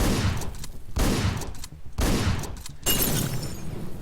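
Repeated shotgun blasts in the top-down action video game Hotline Miami, three loud booming shots at roughly one-second intervals, each with a sharp burst and short decay, followed by continuing noisy game sound.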